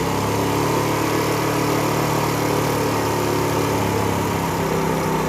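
A motorbike engine idles steadily at close range while its RPM is being adjusted, producing a continuous, even buzzing drone with no talk over it.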